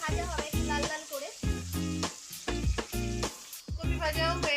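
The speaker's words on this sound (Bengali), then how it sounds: "ওলকপিগুলো ঠিক এইভাবে ভাজা হবে" Close, lively sizzling of kohlrabi chunks browning in hot oil, punctuated by regular scraping strokes of a spatula against the pan, steady and loud with no talking.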